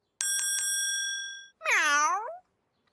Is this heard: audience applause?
no